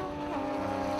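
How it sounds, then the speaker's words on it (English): Porsche race cars in the All Porsche Trophy Series scream past at Snetterton, a loud high engine note with a rising and falling pitch as the cars go by, heard from inside a commentary box. "You'll hear those engine notes. They race past us in the box."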